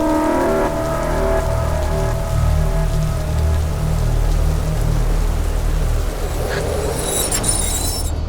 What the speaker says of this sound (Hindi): चारों तरफ घनघोर अंधेरा था और बारिश अपने पूरे सबाब पर थी।